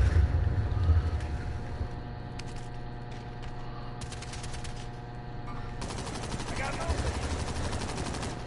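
Gunfire sounds steadily in a PS4 shooter game, with rapid bursts and scattered shots over a constant layer of game noise and engine-like rumble. A player talks over it.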